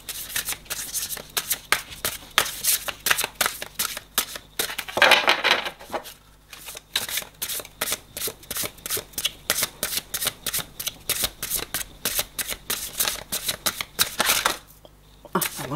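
Tarot cards being shuffled by hand, a steady run of crisp riffling snaps and flutters close to the listener, with a brief louder burst partway through and a short pause near the end; no one talks.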